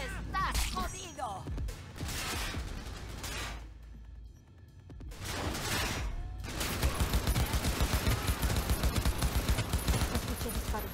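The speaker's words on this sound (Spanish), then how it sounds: "Escuché disparo." Cyberpunk 2077 gunfire in bursts, then a long run of rapid automatic shots near the end, with voices talking over parts of it.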